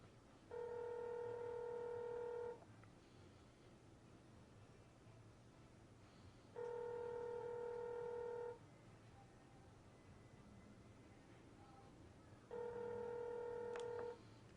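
Outgoing call ringback tone from a Motorola Atrix 4G phone placed through its laptop dock, three two-second electronic ring bursts spaced evenly about six seconds apart over a faint hiss, quiet and without talk.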